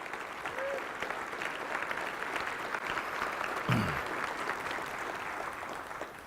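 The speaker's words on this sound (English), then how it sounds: "Let's give him a nice round of applause." An audience claps warmly and steadily for a retiring police chief at a city State of the City event, a sustained round of applause in a large room.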